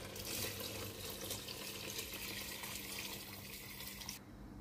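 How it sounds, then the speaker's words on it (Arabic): Hot water poured while cooking a Tunisian Ramadan meal, a steady broadband rush of liquid running for about four seconds before stopping abruptly, with no voices. "وتوا باش نمرح بالماء سخون"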